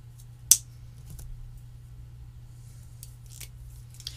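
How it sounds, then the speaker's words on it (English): Scissors snipping a paper square for a handmade graduation card: a few quiet, close cuts spread across a short stretch, over a low steady room hum. "I'm going to cut a square and put that over it"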